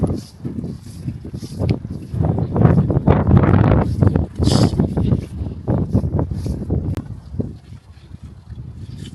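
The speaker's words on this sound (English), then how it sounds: "So windy." Strong wind outdoors on a rainy walk buffets the microphone in loud, rumbling gusts that rise and fall continuously, close and dominant throughout.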